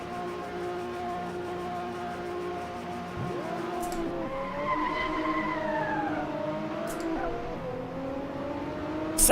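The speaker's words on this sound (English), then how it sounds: "Sounds like the skid sound from Gran Turismo." Car tires skidding in the Assetto Corsa racing game: a steady engine drone with drawn-out rising and falling squeals of rubber sliding across the middle, fairly loud and close, with no talk.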